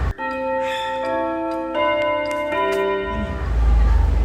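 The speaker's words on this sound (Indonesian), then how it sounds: "Jam berbunyi menandakan pukul 12 malam" A wall clock strikes midnight indoors, its bell-like chimes ringing clearly and sustained over a low musical drone in a quiet room at night.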